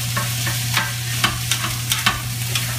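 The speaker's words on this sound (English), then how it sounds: "we're just going to use a wooden utensil to toss things around" A wooden utensil tosses and stirs diced vegetables in a pan, giving a string of close, irregular clacks and scrapes over a low, steady sizzle and hum, with no talking.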